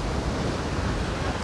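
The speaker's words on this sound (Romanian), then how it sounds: "În timp frumos, bate vânt, au și valuri frumoase." Wind and sea waves by the shore at Kronborg Castle, with passing ships mentioned nearby; a steady, loud broadband roar of surf and wind buffeting the microphone fills the clip.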